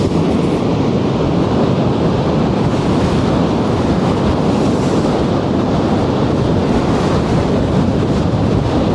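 Ocean surf roars continuously on a beach, a loud unbroken wash of breaking waves mixed with wind buffeting the microphone, and no one speaks.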